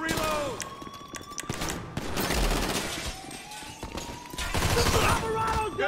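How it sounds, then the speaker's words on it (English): Rapid bursts of automatic gunfire crackle in GTA Online during a Diamond Casino heist, repeated volleys close and loud, mixed with shouted game voices and hectic combat effects. "We're receiving fire!"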